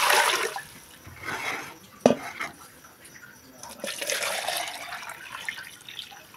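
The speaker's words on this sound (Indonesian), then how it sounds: "nah sini kita siramkan dan langsung kita peras ya guys" Water is poured over grated coconut and squeezed by hand for coconut milk, giving soft splashing and dripping with a sharp splash near the middle, fairly close and unaccompanied by talk.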